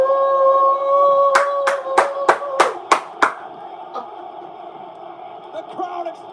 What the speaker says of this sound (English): The crowd exploded.